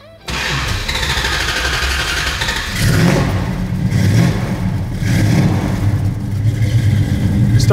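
A 1969 Dodge Super Bee with its original 383 engine cranks and fires up, then settles into a deep rumbling idle with a few blips of revving, loud and close.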